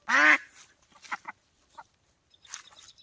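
A single loud, nasal quack opens, followed by a few softer scattered calls and faint sounds nearby.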